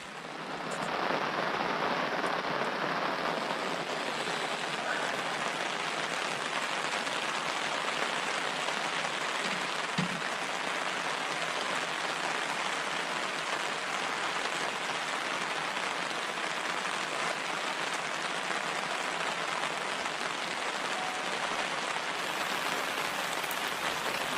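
Steady rain pours down over a small reservoir fishing spot in July, a dense continuous hiss that stays loud and even throughout with no talk.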